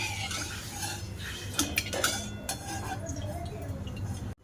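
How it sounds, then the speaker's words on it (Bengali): A metal spoon clinks and scrapes against a pan as fried chana dal with crisp curry leaves is lifted out of hot oil, a few sharp clinks over a soft background hiss. "এবার আমি ছেঁকে তুলে নেব তেল থেকে।"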